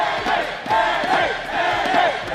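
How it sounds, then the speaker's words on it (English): Loud crowd shouting and cheering at the NA vs EU Heidel Ball 2026 Black Desert showdown, surging in repeated waves of overlapping yells. "The crowd is going crazy."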